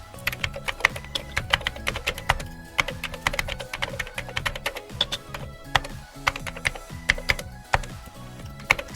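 Continuous close-up clatter of a computer keyboard as code is typed, rapid uneven keystrokes with occasional louder taps, steady throughout with no talk.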